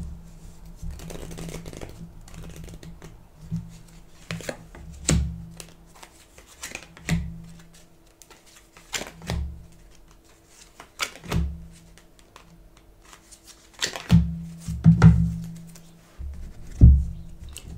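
A tarot deck is shuffled at a table during a daily card reading, heard as close, quiet bursts of card flicks and taps spaced a second or two apart, growing busier toward the end.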